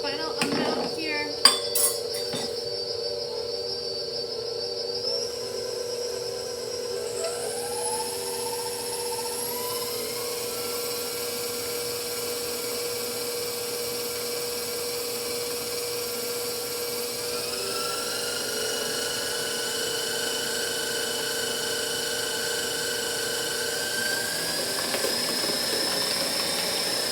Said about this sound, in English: we're going to stop our mixer, scrape it back down one more time